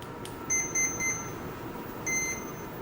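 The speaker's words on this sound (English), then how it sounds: "After connecting the machine, we will turn on the brushless ESC switch." A brushless ESC in a 1/14 scale metal hydraulic RC dump truck beeps as it is switched on: a few short, clear electronic tones in a quick run, then a pause and two more beeps, against quiet background hiss.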